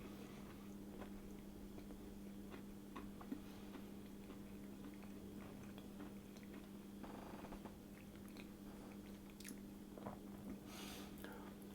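A banana muffin with a crunchy topping is bitten into and chewed close up, with soft, quiet crunching and mouth sounds over a low background hum; the sounds are faint overall.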